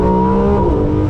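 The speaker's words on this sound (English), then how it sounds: "That V12 is just so raw and angry." A Ferrari 599 GTO's V12 engine holds a loud, steady high-pitched tone with strong harmonics, a brief close-up burst heard from inside the car with no speech.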